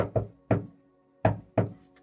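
Four sharp knocks on a front door in two uneven pairs, close and loud with a brief hollow ring after each, no voices.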